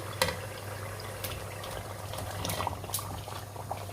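Fried aloo koftas are added to simmering masala gravy with separated oil, giving a steady close bubbling sizzle and a few soft splashes throughout.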